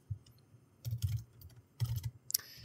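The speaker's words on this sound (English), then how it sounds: "if I just start typing SQL statements" Close, soft keystrokes on a computer keyboard while typing SQL statements in a code editor, arriving in short bursts of clustered taps separated by brief pauses.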